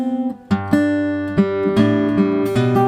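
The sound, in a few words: guitar bass notes played with vibrato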